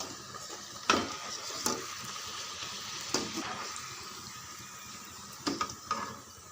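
Puri frying in hot oil, a soft steady sizzle with occasional sharp clinks and scrapes as the bread is turned, fairly faint and without voices.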